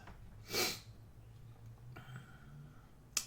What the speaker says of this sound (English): Sorry for the sniffles, allergies.